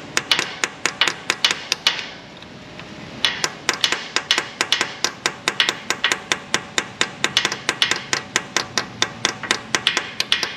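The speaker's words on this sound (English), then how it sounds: "for a punch to act against it in order to try to turn that stud." A punch hammered against a stuck exhaust stud on a Ram 1500 5.7, sharp metallic blows struck in fast regular bursts with a brief pause, loud and close with no talk.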